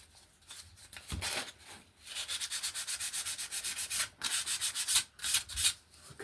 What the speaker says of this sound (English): sanding the bits that are painted